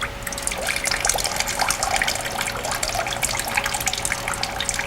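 Water drains and trickles steadily from a papermaking mould screen held over a vat of fiber slurry, a close, continuous splashing patter with no pauses or speech.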